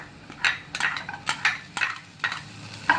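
A utensil stirs green chilies into browned onions in a pan, giving a steady series of close metallic scrapes and clinks against the cookware at an even, rhythmic pace.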